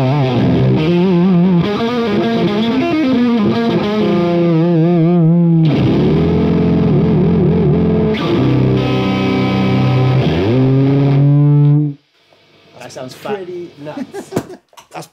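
Electric guitar with fuzz through a JPTR Ohnmacht amp, played loud and heavy with thick distorted sustained chords and bends for about twelve seconds, then fading into quieter scratchy string noise.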